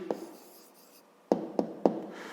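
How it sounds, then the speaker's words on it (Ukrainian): Pen or pencil writing an answer by hand on paper during a fifth-grade maths exercise: a short scratch at the start, then three quick separate strokes close up, quiet and alone. "Ну, а тепер записуємо відповідь."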